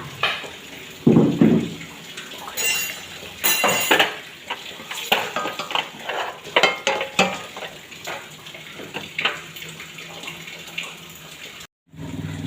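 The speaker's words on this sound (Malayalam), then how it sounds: "ഇനി നന്നായിട്ട് നമുക്കൊരു ഇളക്കി കൊടുക്കാം. കുരുമുളക് ഇട്ട് കൊടുക്കാം." Beef curry seasoned with black pepper stirred in a metal pot, with repeated scraping and clinking of a spoon against the sides under a steady background wash of kitchen noise.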